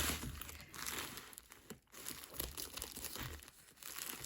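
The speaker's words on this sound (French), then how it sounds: "je vais tout de suite ouvrir le paquet" A parcel package being opened with scissors, with steady close crinkling and tearing of packaging that runs throughout and dips briefly near the middle.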